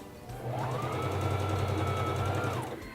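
A Singer Fashion Mate 3333 sewing machine runs under foot control, its motor and needle humming in a steady, even drone for a few seconds of stitching before slowing to a stop.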